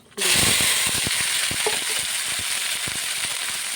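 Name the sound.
dried red chilies, bay leaf and five-spice frying in oil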